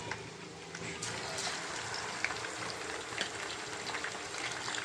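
Chicken pieces fry in hot oil for a chicken pickle, making a continuous close crackling sizzle with scattered pops throughout.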